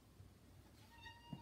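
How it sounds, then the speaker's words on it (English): Cat meowing faintly indoors, a brief soft meow near the end over low room noise, quiet and without talk. "Cat's coming to listen."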